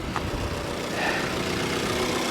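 A manual Infiniti G37s sits idling with a steady, even engine rumble that holds at a constant level, with no voices over it.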